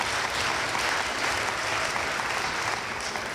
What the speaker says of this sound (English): thank you for your applause nevertheless